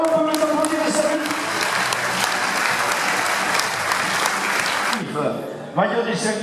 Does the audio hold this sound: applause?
yes